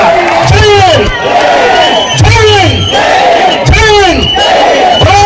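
Loud college anniversary crowd cheering and shouting in unison for soldiers, with repeated surging chants rising and falling several times, voices filling the hall.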